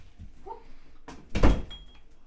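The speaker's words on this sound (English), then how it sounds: "Do me a favour, just close that door" A door swings shut with a soft creak and a solid thud at close range in a quiet room where a podcast is being recorded, followed by a brief faint scrape.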